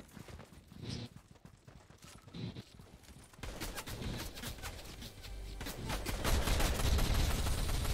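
Fortnite gunfire: a few faint distant pops give way to a denser, louder stretch of rapid shots building toward the end, with a busy game background.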